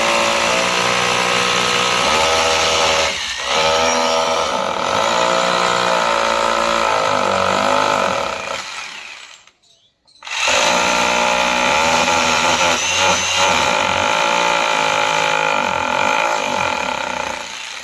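A power drill with an 8 number bit bores into a wall for a TV wall mount, a loud sustained whine with pitch wavering as it bites, then a brief pause before drilling resumes.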